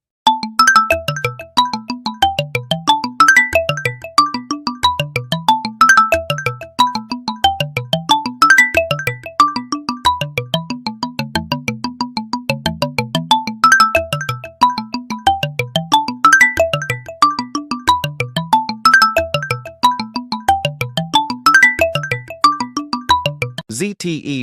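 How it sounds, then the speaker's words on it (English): A bold Ulefone smartphone ringtone loops a punchy, repeating melodic phrase over a pulsing low beat, loud and continuous for the whole stretch with no voices. "Ulefone ringtone feels massive and bold"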